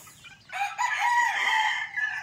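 Three-month-old chicks crow and cluck close by, a burst of shrill, raspy young-rooster crowing that runs for about a second and a half over quiet background.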